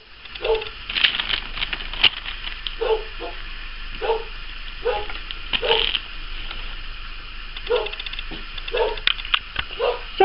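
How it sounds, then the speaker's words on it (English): A Yorkshire terrier indoors barks repeatedly in quick, sharp yaps, a steady run of high barks spread over ten seconds over a constant background hiss. "trying to get my Yorkie to keep quiet"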